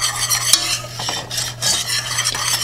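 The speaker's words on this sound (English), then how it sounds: "And then we can whisk that in." A whisk stirs xanthan gum into a blueberry mixture for keto blueberry crumble bars, giving a close, steady swishing and scraping against the bowl with a few sharper clinks and no speech.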